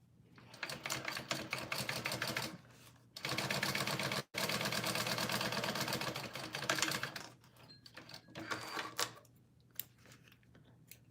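A sewing machine bastes down a zipper in bursts of rapid mechanical stitching, close and fairly loud, stopping and starting with short pauses between runs.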